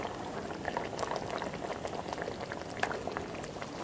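Potatoes simmering in massaman curry make a dense, steady bubbling and popping that stays close and even throughout, with no voices.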